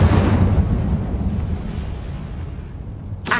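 Incendio, a fire spell in the video game Hogwarts Legacy, bursts with a loud, rumbling whoosh that holds steady for a few seconds and then fades, ending in a brief hiss.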